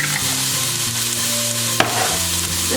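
Garlic and onions sautéing in a pot, a continuous close sizzle with a sharp utensil scrape partway through, no talking.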